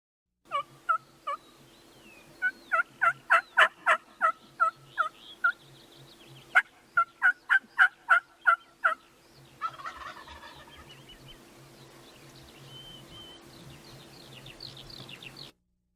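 Wild turkey gobblers gobble in repeated bursts, several rattling calls in a row with short pauses between them, heard outdoors at moderate distance, with softer clucks and rustling near the end.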